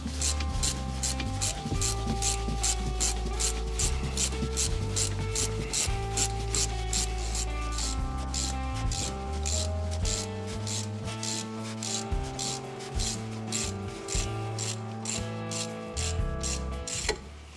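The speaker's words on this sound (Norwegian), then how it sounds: "Men da løsner vi skruene." A tool working the brake caliper screws on a VW T5 2.5 TDI California, a continuous close, rasping and ratcheting scrape that repeats in quick regular strokes throughout, with no talking.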